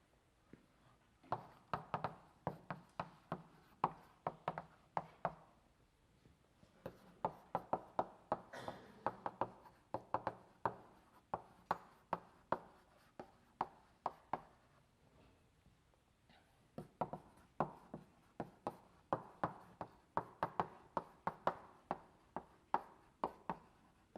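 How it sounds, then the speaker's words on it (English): Chalk drawing a linked list on a lecture-hall blackboard during a hashing lecture, sharp rhythmic taps and scrapes in clustered bursts with short pauses, moderately close and fairly faint over room tone. "I'm going to draw it as a linked list."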